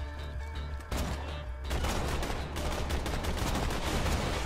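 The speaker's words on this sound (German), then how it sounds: "Ich schieße mal auf den kleinen Bruder da." Rapid gunfire from Borderlands 2, a dense, loud burst of repeated shots that kicks in after a short lead-in and keeps going without a pause, with no talking over it.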